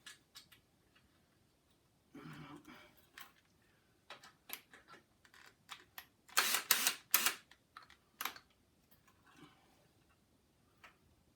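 A screw is turned by hand into a wooden table easel. Sparse, quiet clicks and ticks come in irregular bursts, with a few louder scraping squeaks midway, close and without speech.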